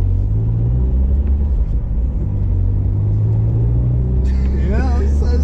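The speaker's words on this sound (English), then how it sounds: "this is the first legal drive in the freaking Miata" A Mazda Miata cruises on the road, giving a steady loud low engine and road rumble from inside the cabin, with brief chirpy voices near the end.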